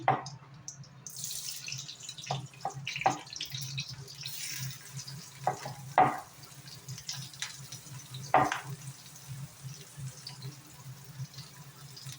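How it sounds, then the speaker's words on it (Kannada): Onion and green chili fry in hot oil in a kadai, with a soft bubbling sizzle broken by several louder scraping and clattering stirs close to the listener. "ಸ್ವಲ್ಪ ಫ್ರೈ ಆಗಲಿ ಈರುಳ್ಳಿ ಸ್ವಲ್ಪ ಫ್ರೈ ಆದರೆ ಸಾಕು"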